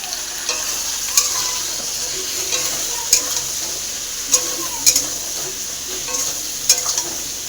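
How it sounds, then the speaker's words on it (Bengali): Cabbage, spices and potatoes fry together in a home kitchen pan, giving a steady sizzle with periodic scrapes and clinks of a spatula stirring, close and clear with no talking. "এদিকে বসিয়ে দিয়েছি বাঁধাকপি, মশলা, আলু সব ভেজে কষতে।"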